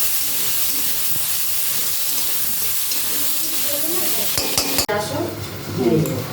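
Thin potato slices fry in hot oil in a home kitchen, a steady broadband sizzle and hiss running the whole way with light stirring scrapes and a sharp clatter near the end.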